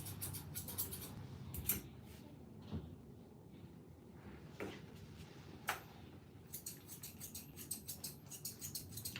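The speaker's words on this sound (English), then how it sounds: "all you can hear is the scissors going" Quiet, irregular snipping of scissors trimming a dog during grooming in a mobile grooming van, soft clicks and rustles, a few sharper snips standing out against a low background hum.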